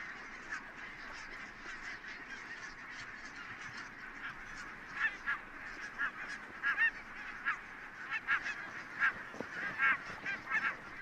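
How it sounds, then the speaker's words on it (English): A flock of barnacle geese roosting on the mudflats of Loch and Dal on Islay in the Hebrides keeps up a steady chorus of honking, with sharper, closer calls cutting through more often in the second half. "The barnacle geese are roosting on the mudflats of Loch and Dal"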